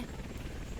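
Helicopter sound effect from the visual novel Muv-Luv Photonmelodies, a brief, steady low rotor drone with dense chopping texture, playing on its own at a moderate level.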